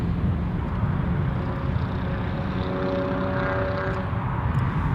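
A Norwegian Air Shuttle Boeing 787 at Paine Field gives a steady, loud jet roar with a faint rising whine layered over it, continuous and without voices.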